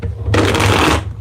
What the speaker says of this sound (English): Can't even shuffle correctly today.